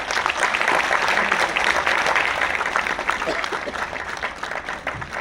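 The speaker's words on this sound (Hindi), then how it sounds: "एक बार फिर से तालियां उठे सुदीप भोला के लिए।" An audience at a poetry recital applauds the poet Sudeep Bhola, loud continuous clapping and crowd noise that stays dense throughout, with some voices mixed in beneath.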